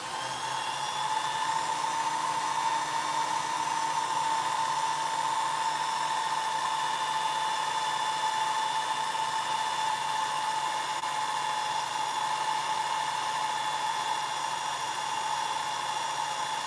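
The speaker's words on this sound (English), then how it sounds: "I'm going to drill into this. I'm using a small drill bit first because it's brass." A small drill bit bores into brass, giving a steady, high whining drone that holds evenly throughout at close range, with no talk.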